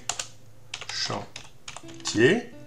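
Close, quick clicks of typing on a computer keyboard while entering text into a spreadsheet cell, short irregular bursts of keystrokes mixed with brief speech.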